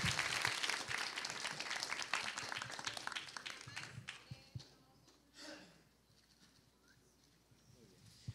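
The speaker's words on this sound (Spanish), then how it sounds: "Fuertes aplausos también." Dense applause fills a university event hall at a talk on conscientious objection, strong at first and then thinning into a few scattered claps, with some faint speech underneath.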